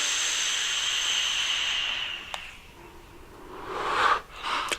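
Air is drawn through a Wolverine RDA vape atomizer running at 70 watts with half airflow, a smooth, close hiss that fades midway, followed by softer breathy rushes near the end.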